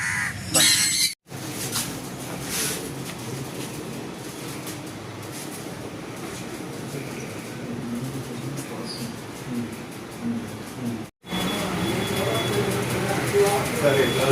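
Birds seized from West Bengal smugglers by forest department staff call and caw continuously in a dense, busy chorus, close and steady with brief breaks, with people talking over them.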